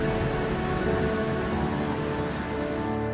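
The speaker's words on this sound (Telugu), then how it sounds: "వర్షం పడుతుంది" Steady, loud rain pours down, a dense, continuous hiss of drops hitting surfaces that holds constant throughout with no voices.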